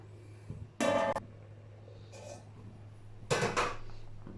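A metal lid clatters onto a pot, then a softer scrape and a second rattling clank, close up over a steady low hum.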